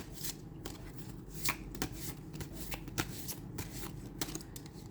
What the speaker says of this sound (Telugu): ఈ కార్డు బయటకు ఒక్క నిమిషం మంచిగా షఫుల్ చేసి తీసుకుందాం.